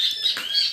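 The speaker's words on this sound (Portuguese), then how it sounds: "Olha o barulho dos pássaros" Small birds chirp outside a home kitchen, a brief run of high thin tweets that is fairly clear and close, with no talking over it.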